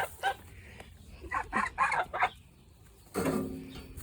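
Garden geese call in short honking bursts, several quick ones in a row, then a louder, longer call after a pause, fairly close and without talk.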